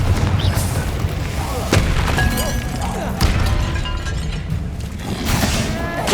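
Explosions and booms from a Confringo fire spell in Hogwarts Legacy on PS5, with loud low-heavy blasts and crashing impacts in an almost continuous rumbling sequence, up close.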